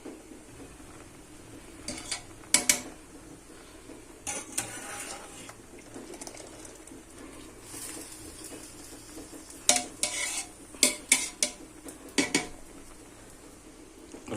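Partly cooked rice spooned as a top layer over mutton biryani in a pot, soft scooping with intermittent metal spoon clinks against the vessel over a low steady background hiss, close but fairly quiet.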